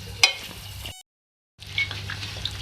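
Potato and egg bhujia being stirred in a hot pan, a soft sizzle with scraping stir strokes, one sharp clink at the start, a brief cut to silence, then more gentle frying and stirring.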